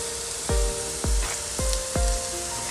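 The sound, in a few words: sautéing beef masala with chili powder in a pan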